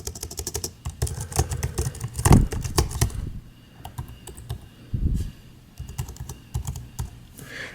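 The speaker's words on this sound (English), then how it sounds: "I'm just going to type a bunch of gibberish, just so you can hear what the keys sound like" Rapid, uneven clicking of keys on a Cherry KW7100 wireless computer keyboard, close and continuous, with a few heavier keystrokes and brief pauses.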